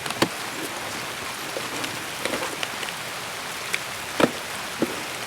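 Rain falls steadily on the Woods map in Escape from Tarkov, a constant hiss of drops on surfaces with occasional sharper drip and tap sounds standing out, close and fairly loud with no talk.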